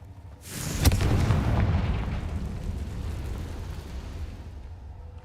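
A Confringo blasting spell explodes in Hogwarts Legacy: one sharp, loud boom with a crack at its onset, followed by a long rumbling roar that slowly fades over several seconds.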